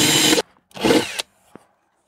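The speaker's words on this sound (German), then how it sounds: "so, Löcher sind gebohrt." A power drill bores holes inside a Ford Nugget Plus camper van: two short, loud whirring bursts close up, followed by a faint brief click.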